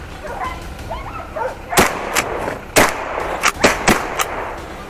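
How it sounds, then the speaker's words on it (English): A gunshot fired at a wild boar during a woodland hunt: several sharp, loud cracks spread across a few seconds against rustling outdoor background, with no one talking. "a shot was fired instantly"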